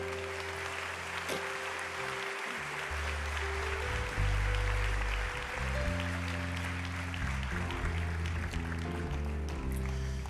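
A church congregation applauds steadily throughout, a broad wash of clapping over sustained keyboard or organ chords that shift pitch beneath it.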